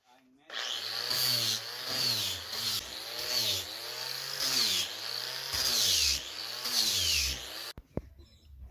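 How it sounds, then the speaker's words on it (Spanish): A power sander whirs steadily against the wood of an arched window frame in repeated passes, its pitch rising and dipping with each stroke, then stops abruptly near the end. "voy revisando con la escuadra y corrigiendo con la lijadora donde sea necesario"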